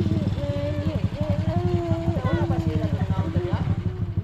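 A manual clutch motorcycle engine runs with a steady low throb, heard up close under people talking throughout.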